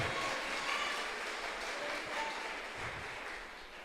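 Sustained applause from a church congregation, a steady wash of clapping that fades slightly toward the end, no speech over it.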